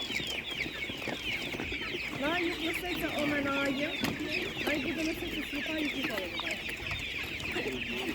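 A naked-neck chicken at an animal market clucks repeatedly in short, close calls over a constant background of market noise and faint voices.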